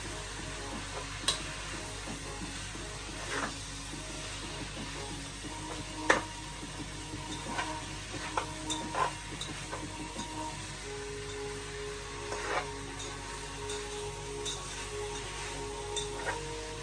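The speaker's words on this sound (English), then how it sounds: "Make sure you constantly stir it as well, because you don't want it to burn and you don't want it to stick to the bottom of the pot" Oxtail sizzles quietly and steadily in a pot while being stirred, with occasional faint clicks and scrapes scattered through the low, even frying hiss.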